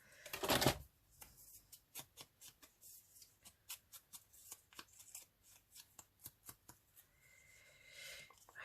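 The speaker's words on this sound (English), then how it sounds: "I think I'm going to cut the corners off of here." Scissors snip the corners off paper for an accordion pocket book, a quick train of crisp, close cuts with a louder rustle at the start and short pauses between snips.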